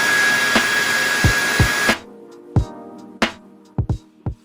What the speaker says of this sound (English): using the hairdryer to warm up that foam and then just gently pulling it away from the roof